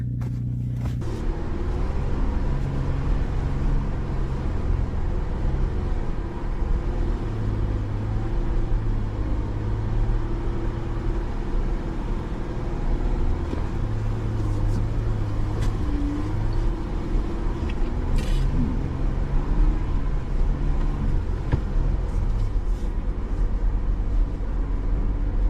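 An off-road vehicle on Utah's Barracks Trail gives a steady, loud engine rumble and drone throughout, with no pauses and no talk.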